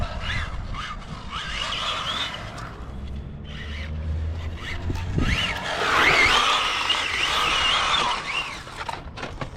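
A Kyosho Fazer MK2 1/10 radio-controlled car with a tuned 1972 Mazda Savanna GT body runs flat out across a yard, its motor whining in rising and falling bursts, with a louder sustained run near the end.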